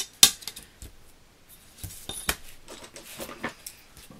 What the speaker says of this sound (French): je coupe toujours les petites pointes ensuite